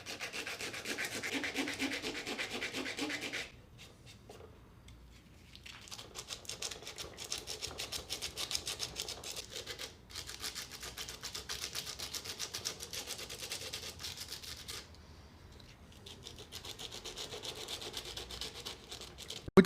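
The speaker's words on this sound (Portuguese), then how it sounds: "Agora eu vou pegar uma lixa 60, ou uma lixa 50, tem que ser uma lixa grossa" A wood carving is rubbed with coarse 50–60 grit sandpaper in fast back-and-forth scratchy strokes, close and loud, pausing briefly twice before the rasping resumes.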